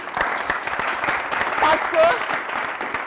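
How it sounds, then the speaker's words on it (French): An audience claps on the set of a Burkina Faso TV entertainment show, a steady patter of applause lasting a few seconds, with a voice speaking over it. "On les applaudit."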